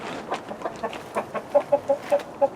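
Chickens clucking in a backyard pen, a run of short, repeated clucks at close range, growing slightly louder toward the end with no talking.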